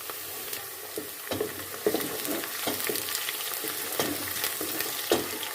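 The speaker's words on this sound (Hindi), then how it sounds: "लहसुन, अदरक और हरी मिर्ची इस तरह से चॉप कर लिए, वो डाल देंगे। साथ में इसको भी हमने फ्राई कर लेना है।" Garlic, ginger and green chilies sizzle steadily in hot oil, with occasional clinks and scrapes of a spoon stirring the pan; no voices.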